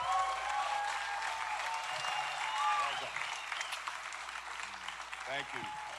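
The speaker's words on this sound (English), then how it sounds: "Let's give a big round of applause for Rick Overton." Applause from a live comedy show audience in Hollywood, sustained clapping with cheers that gradually thins out, with voices audible over it.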